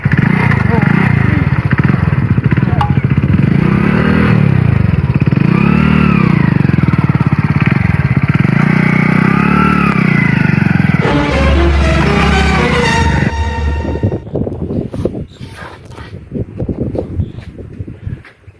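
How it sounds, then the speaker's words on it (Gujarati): Motorcycle engine being revved repeatedly, loud and close, with rising and falling pitch sweeps, then dropping to a rougher idle near the end while people talk over it. "હવે પેલા ભગાભાઈ કેટલા રેસ કરે"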